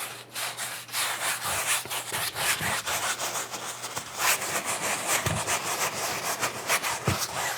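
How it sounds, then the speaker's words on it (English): A paintbrush scrubbing liquid clear coat onto a finished winter snowfall painting, a close, continuous rough rubbing with repeated back-and-forth strokes and no talking. "So see how I'm really, really scrubbing it in?"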